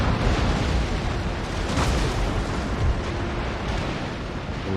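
Cannon broadside from warships firing on a brig in an Empire: Total War naval battle: a dense, loud, continuous roar of booming blasts blurring into one another for the whole stretch, with no voices.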